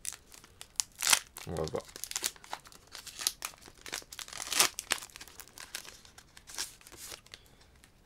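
Plastic wrapping on a Pokémon card tripack crinkles and tears open in several short bursts, mixed with a French speaker's talk throughout.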